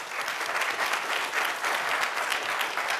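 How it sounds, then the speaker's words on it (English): Audience applause for the judges at an Innovate Downtown event, a steady dense clapping from a sizeable crowd, fairly close and even throughout with no talk over it. "Can we have a round of applause for our judges,"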